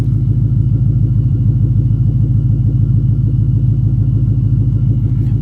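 A loud, steady 600-horsepower supercharged V8 Mustang engine with MagnaFlow exhaust idles with a choppy, lumpy rumble, the beat pulsing continuously close by, with no voices.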